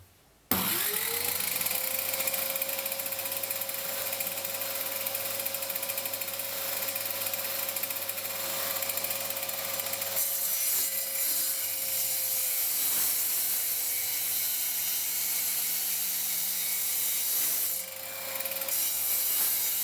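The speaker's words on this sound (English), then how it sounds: "To cut these shoulder pieces, I'm just going to set the table saw to the right height and run it through this way." A table saw runs steadily, cutting wooden shoulder pieces for a modular synthesizer stand, with a constant motor whine and a dense, loud buzz that holds for nearly twenty seconds before the motor winds down.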